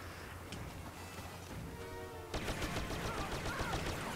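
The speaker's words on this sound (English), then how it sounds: "Double kill from the hip fire there." Rapid hip-fire shots from a blaster in the Star Wars Battlefront game crackle over a steady background, with a loud burst of repeated cracks after a quieter stretch.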